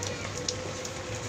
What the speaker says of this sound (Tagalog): sadyo ambon-ambon lang to